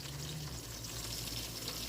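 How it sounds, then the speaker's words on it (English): A continuous crackling sizzle of food frying in a pan, steady and close throughout. "You see it sizzling?"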